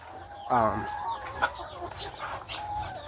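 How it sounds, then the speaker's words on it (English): A rooster gives a short, throaty call up close, followed by softer clucking and faint murmurs under a low background hum. "A rooster does a lot of communicating with his hens."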